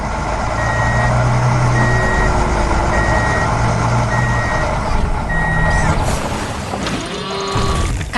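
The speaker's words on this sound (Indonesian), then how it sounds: "Sekarang truk hijau sedang berjalan melewati medan hijau yang menyenangkan." A green cartoon truck drives across a grassy field with a steady engine drone, its reversing alarm beeping at an even pace throughout, loud and close.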